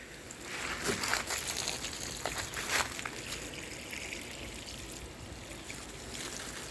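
A water spray showering potted bonsai trees in a garden, a steady hissing, splattering rush that continues for several seconds at a fairly even level.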